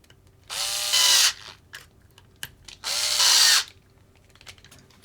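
A power driver sends screws into the rear suspension of a Kyosho Optima Mid '87 RC car, two close whirring bursts about a second long each, separated by small clicks and handling noises.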